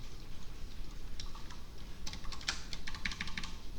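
Quick keystrokes on a computer keyboard, a few light taps followed by a faster cluster of clicks near the end, close and moderately quiet.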